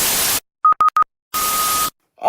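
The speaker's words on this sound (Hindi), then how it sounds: "फिर से अलार्म आ गया" A mobile phone in Spain sounds a civil protection emergency alert: bursts of harsh static frame three short, loud, steady beeps followed by one longer sustained tone, then more static.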